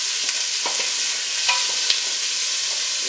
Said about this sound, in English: Okay, so I'm going to cook up the onion.